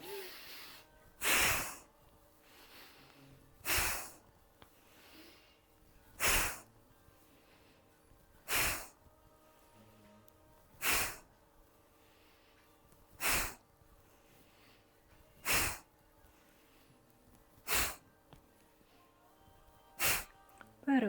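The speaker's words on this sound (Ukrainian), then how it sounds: "більш протяжний вдих, різкий видих" A person does a breathing exercise during a back tension-release practice, with long quiet inhales each ending in a sharp, forceful exhale, about nine evenly spaced bursts close to the microphone.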